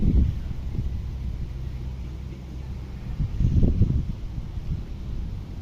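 Strong wind under an overcast sky buffets the microphone outdoors, a low rumbling roar that swells and gusts, loudest near the middle, with no clear talk.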